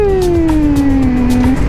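A Suzuki GSX-R 1000 sport bike engine hums at steady revs, its tone sliding gradually lower as the throttle eases, close and loud throughout with no talk.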